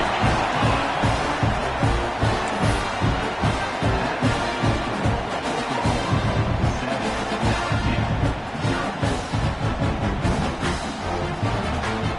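A home crowd at a football game roars after a touchdown, a dense, loud, sustained cheer with rhythmic pulsing throughout.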